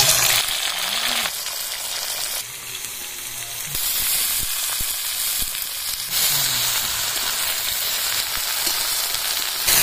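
Chopped potato, radish and eggplant frying in refined oil in a kadai, a loud continuous sizzle with bubbling and occasional stirring clinks throughout.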